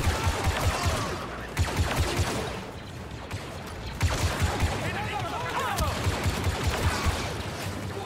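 Automatic weapon fire in the video game Star Wars Battlefront II rattles in repeated short bursts over a dense battle din, with fast, regular cracks close by and brief pauses between volleys.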